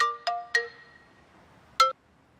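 A phone rings with repeated incoming calls, sounding as short bright electronic chime notes, three quick ones close together and then one more after a pause, fairly faint against a quiet room.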